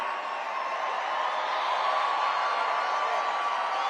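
A large rally crowd at a Trump pre-inauguration victory rally in Washington, D.C. gives a dense, steady wash of applause and cheering for the whole clip, with no single voice standing out.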